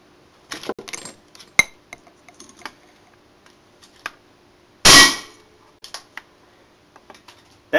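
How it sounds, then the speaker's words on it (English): A 220 ohm resistor pops when a defibrillator capacitor discharges through it, one loud sharp bang amid scattered small clicks and taps of handling before and after. "That's the correct way to pop a resistor."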